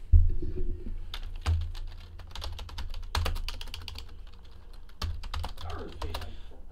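Someone types on a computer keyboard in irregular bursts of crisp clicks and key taps, close and moderately loud, with brief pauses between bursts and a low background hum.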